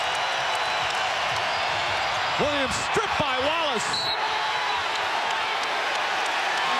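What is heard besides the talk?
basketball crowd cheering at TD Garden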